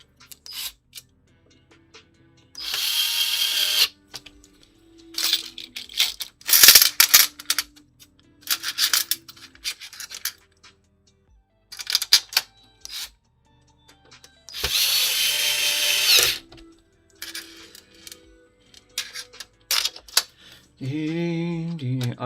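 A power drill drives screws into an Xbox 360 in short bursts: two longer buzzing runs and several quick whirs, separated by quiet gaps with clicks and handling of parts.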